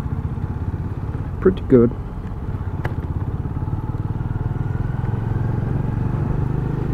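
A 2020 Benelli Imperiale 400 motorcycle engine runs steadily with a throbbing low drone during a test ride, while someone speaks briefly over it near the start.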